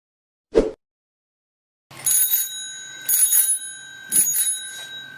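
A bicycle bell rings in three separate bursts of bright, clear chimes, preceded by a single short thump and a pause of silence.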